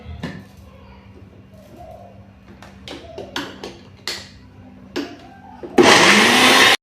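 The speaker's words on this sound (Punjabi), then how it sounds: "ਤੇ ਹੁਣ ਇਹਨੂੰ ਆਪਾਂ ਮਿਕਸੀ ਦੇ ਵਿੱਚ ਗ੍ਰਾਈਂਡ ਕਰਾਂਗੇ" A mixer grinder blending mint chutney with sugar and onion bursts on loudly for about a second at the end, after a quiet stretch of scattered clicks and handling knocks.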